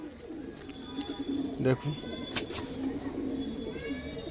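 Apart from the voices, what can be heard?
pigeons cooing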